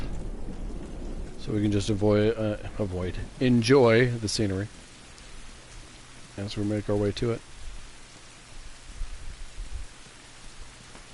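Steady rain with a low distant rumble of thunder in The Last of Us plays as a soft, continuous wash under someone speaking over it.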